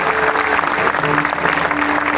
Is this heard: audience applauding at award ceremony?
yes